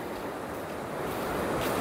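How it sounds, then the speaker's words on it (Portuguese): High ocean waves break along the beach at Praia de Apiques near Itapipoca, Ceará, giving a dense, continuous roar of surf that swells slightly louder toward the end. "para ver aqui como que tá aí as ondas. As ondas estão altas."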